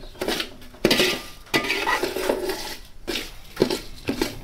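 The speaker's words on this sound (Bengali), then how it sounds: "চালটা ভাজা হোক" Gobindobhog rice frying in a pot on low heat for biryani: repeated scraping and clanking strokes of a metal spoon against the pot, with a faint sizzle between the stirs.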